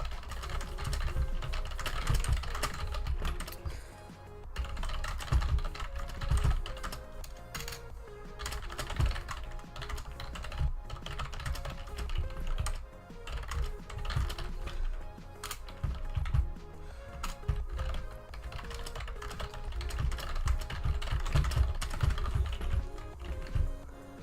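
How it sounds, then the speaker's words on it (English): Someone types on a computer keyboard right next to the microphone, with steady clattering keystrokes in quick irregular bursts that continue throughout at close range. "you can hear me typing. My microphone is near my keyboard."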